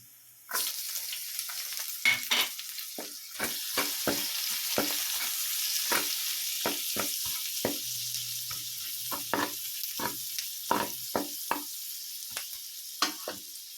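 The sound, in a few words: pork and garlic frying in oil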